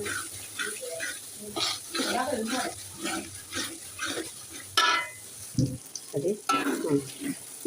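Garlic and ginger paste fries in hot oil for beef tehari, a steady sizzle with stirring scrapes, under a voice talking through most of it.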